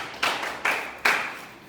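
Three separate, sharp claps in a classroom during a chemistry lesson, evenly spaced about 0.4 seconds apart. Each is a crisp, close hand slap that decays quickly into a quiet room.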